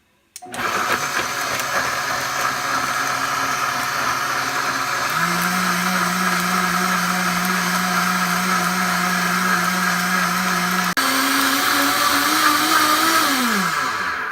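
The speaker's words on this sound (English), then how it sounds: "now I'm just going to blend them until they're like a water consistency" A blender purees chilies to a watery consistency, whirring steadily at high speed, its motor pitch shifting as it churns, then winding down near the end.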